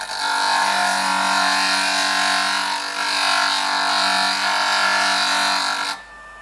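A JoolTool rotary shaping machine spins at high speed while shaping and polishing the edge of a glass cabochon, a loud, steady whining hum with a grinding hiss that cuts off abruptly near the end.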